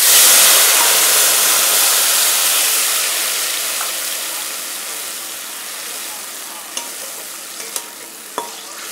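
Oil bubbling while fish fries in a pan, a steady dense sizzle that starts loud and slowly eases off, with a few small sharp pops near the end.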